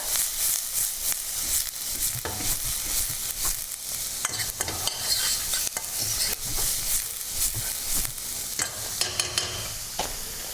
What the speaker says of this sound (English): I'll put in some celery, which is the next hardest vegetable. Coat that.